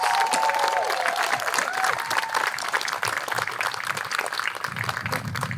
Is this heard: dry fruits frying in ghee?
no